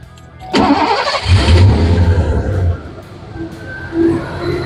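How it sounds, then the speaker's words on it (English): A 1986 Lincoln LSC coupe's 5.0-liter 302 V8 HO engine cranks and catches, then settles into a loud, rumbling idle up close, with the revs dipping and rising slightly. "Let me reach in and fire it up."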